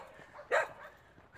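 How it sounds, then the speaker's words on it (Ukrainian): A single short dog bark rings out at moderate distance, a brief sharp burst amid quiet street background. "Собаки вернуться за мною."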